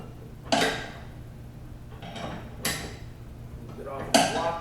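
Ratcheting wrench working a nut on a spring job, with three sharp metallic clicking bursts spaced about two seconds apart over a quiet background hum.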